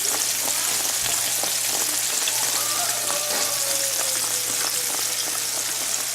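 Cajun-seasoned catfish fillets deep frying in hot oil, a steady dense crackling sizzle that runs throughout with a few brief clicks and a faint whistling tone midway, no voices.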